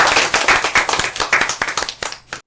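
An audience at an interview event with a film director claps loudly together, a quick burst of sharp overlapping hand claps lasting a couple of seconds before stopping abruptly.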